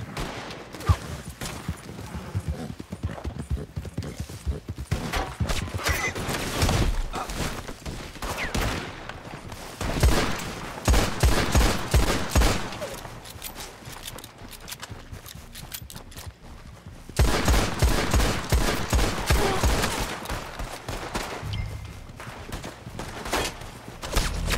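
Gunfire in a video game comes in repeated bursts of volleys, loud and close, with broadband cracks clustered around the middle and near the end over a busy game soundscape that includes hoofbeats and footsteps.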